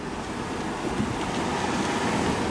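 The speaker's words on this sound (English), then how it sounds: "that's a way happier power steering pump" Replacement power steering pump running on a Dodge Caravan with 147,000 miles, a steady broadband engine-bay hum and rush without a whine, continuous and moderately loud.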